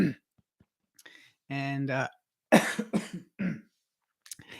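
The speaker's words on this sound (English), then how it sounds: "as I have a coughing fit on live." A few harsh, bursty coughs in quick succession, close by, with a short spoken word at the start.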